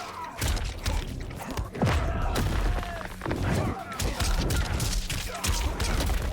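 Omni-Man lands a combo of heavy fighting-game hits in Mortal Kombat 1, a rapid run of loud thuds, impacts and booming effects packed close together, with a voice talking over part of it.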